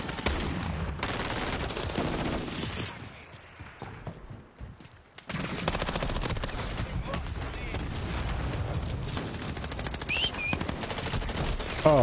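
Gunfire in a first-person shooter video game, with rapid shots in dense bursts, a brief quieter lull, then more loud firing and game effects.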